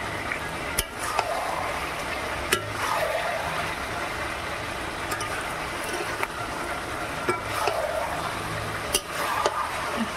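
Chicken curry simmers in a pot on the stove, with a thick bubbling hiss and the sharp scrape and clack of a spoon stirring every couple of seconds, close and steady without talk.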